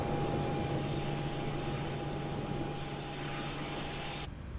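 Boeing 737-800 jet engines heard from outside the aircraft in the PMDG 737 for Microsoft Flight Simulator 2020, a steady broadband roar with a constant high whine that runs throughout and cuts off near the end.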